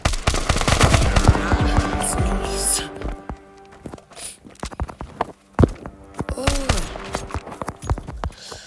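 Distant gunfire comes as scattered sharp cracks and bursts, some in quick runs, spread through the stretch among rustling and footstep-like noises, with people talking nearby in between.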